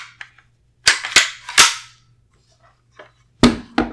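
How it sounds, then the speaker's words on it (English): Sharp metallic clacks from the bolt of a PTR KFR rifle, an HK91-style 7.62x39mm gun, as it is dropped back into position during reassembly, several crisp close snaps in quick succession with quiet gaps and no speech. "we drop the bolt back into position"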